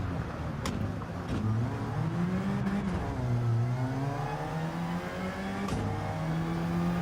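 A 4C sports car engine in Gran Turismo 7 revs and accelerates steadily, its pitch climbing and dipping through gear changes, loud and continuous with no talking.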